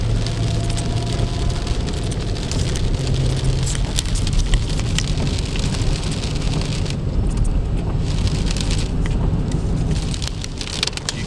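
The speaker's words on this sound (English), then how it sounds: "So the weather has changed and it's rainy." Rain patters steadily on a car during a road trip through green countryside, with a dense hiss and scattered drops and the low rumble of driving underneath, no one speaking.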